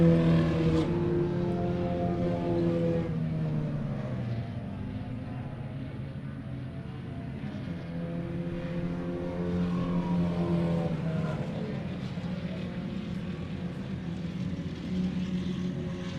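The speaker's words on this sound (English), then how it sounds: "Dustin and Mike passing some lap traffic in a heated battle here into turn 11" Formula Vee race cars on a road course at Carolina Motorsports Park, engines droning continuously with rising and falling pitch as several cars pass at mid distance, no speech.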